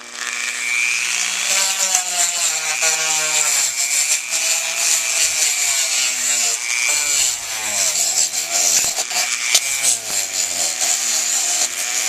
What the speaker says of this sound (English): then I use a finishing abrasive bit just to kind of dress it up, because I like a nice finished look